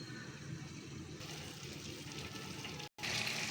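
Water is poured into a pan of broad beans set to cook, making a steady, close running and filling sound that lasts about three seconds, breaks off briefly, then resumes.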